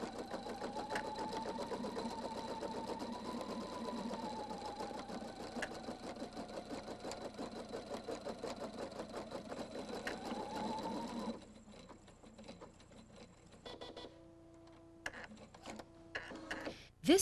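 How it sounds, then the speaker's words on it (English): A Husqvarna Viking Designer II embroidery machine stitching out a design, giving a steady, fast mechanical whir and rattle that runs for about eleven seconds, then drops to quieter clicks and motor tones before stopping. "Touch Rotate once again to sew the design in the lower left corner."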